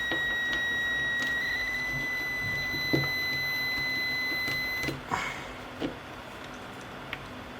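Stepper motor in a homemade 6-axis robot actuator, driven by a DRV8834 stepper driver and running hot, gives a steady high electronic whine with faint ticking for about five seconds, then stops, leaving a few scattered clicks.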